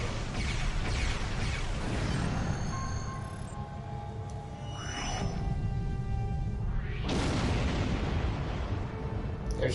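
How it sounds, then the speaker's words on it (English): A destroyed Romulan ship goes up in a singularity explosion during a Klingon Empire space battle game, a loud continuous roaring blast with rising and falling whooshes sweeping through it, dense and sustained throughout. "There's a singularity explosion."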